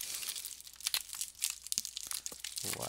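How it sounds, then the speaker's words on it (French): Sturdy plastic shrink wrap being peeled and torn off a Blu-ray case, heard as close, irregular crinkling and crackling bursts with sharp tearing snaps, sounding alone throughout. "enlever la pellicule de plastique qui est robuste"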